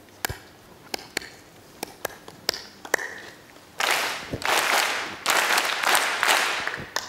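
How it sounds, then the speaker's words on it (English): A preschool-style rhythmic hand-clap pattern: a few single sharp claps at first, then an audience clapping back loudly in dense, ragged bursts that fill the room. "I'm going to clap a pattern. You need to listen, and I want you to clap it back."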